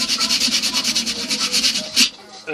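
Hand sanding of a wooden cane with 80-grit sandpaper, about a dozen rhythmic raspy back-and-forth strokes, close and steady, ending in one louder scrape.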